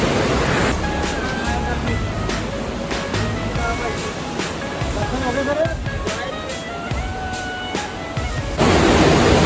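Loud, steady rushing of river water at Manikaran Sahib, a continuous roar that fills the whole clip, with faint voices under the torrent.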